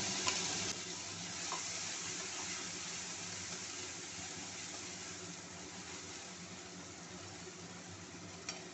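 Onion and green chili paste sizzles in hot oil with nigella seeds while cooking gondhoraj bata, a steady, even frying hiss that carries on throughout with no talking.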